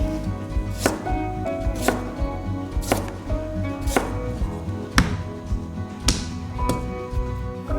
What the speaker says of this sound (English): I'll just slice some ginger and garlic. You don't need to peel the ginger, just cut it into thick slices and give it a bit of a bash.